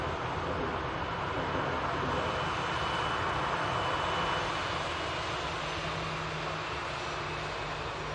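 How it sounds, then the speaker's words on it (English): A Finnair Embraer E190 jet heading for Helsinki at Manchester Airport gives a steady, moderately faint broadband engine roar that runs unbroken throughout. "Finnair, Embraer E190 heading back to Helsinki."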